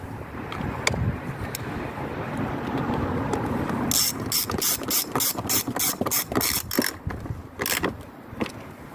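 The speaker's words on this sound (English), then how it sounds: "just using the ratchet to nip in the last little bit" Ratchet snugging up the MAF sensor on a Volvo D5 XC90, first a soft hiss, then a rapid run of sharp clicks in short bursts, close to the microphone.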